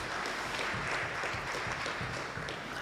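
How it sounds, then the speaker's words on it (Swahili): A church congregation applauds at a Kikuyu service, a dense, steady wash of clapping that carries evenly for a few seconds with no distinct voices over it. "Tumpigie Bwana makofi because of that."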